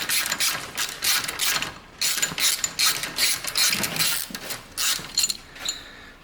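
A ratchet wrench loosens the lower exhaust mount bolt on a 2017 Harley-Davidson Touring Milwaukee-Eight motorcycle, giving loud, close, repeated bursts of rapid clicking with short pauses between strokes.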